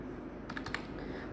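A short burst of a few quick keystrokes on a computer keyboard while entering a measurement into a text box in Microsoft Word, quiet and close over a steady background hiss.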